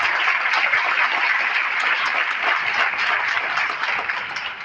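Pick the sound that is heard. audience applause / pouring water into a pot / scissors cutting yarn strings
audience applause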